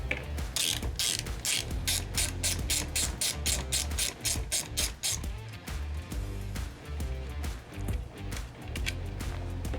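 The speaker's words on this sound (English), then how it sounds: "So now I switched to our 10mm socket and I'm going to be removing this cable." A 10mm socket on a ratchet removes a battery cable nut at a vehicle's fuse block. Fast, steady ratchet clicking sounds loud and close, with a quicker burst early on, then continues without speech.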